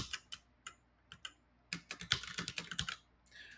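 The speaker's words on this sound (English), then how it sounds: "I'm going to type in site colon and then the website URL." Typing on a computer keyboard, a run of sharp clicks that starts sparse and quickens into a dense burst of keystrokes, close and clear with no talking.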